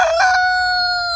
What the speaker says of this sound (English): we have this fluffy black chicken right here with black feet